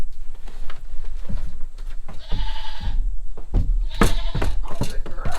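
A dairy goat bleats at milking time, a few loud, close, strained cries bursting out in short clusters amid barn shuffling and handling noise.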